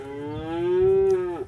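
A single cow gives one close, clear moo lasting over a second, rising slightly then trailing off at the end, with faint background noise and no talking.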